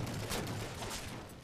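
Rapid bursts of gunfire from a Halo 4 multiplayer SWAT match run steadily through the moment, dense and continuous at moderate level, with no talk over it.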